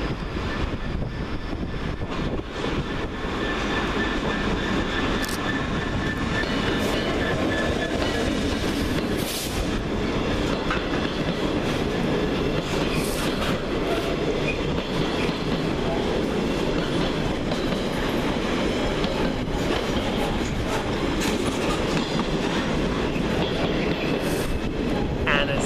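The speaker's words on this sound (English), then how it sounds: "Manchester Oxford Road turns into Freight Central as 66112 comes through, working a freight service from London Gateway to Trafford Park Euro Terminal" Class 66 diesel locomotive 66112 hauls a freight train through Manchester Oxford Road station, a loud, continuous engine drone layered with steady wagon rumble and rail clatter for the whole passage.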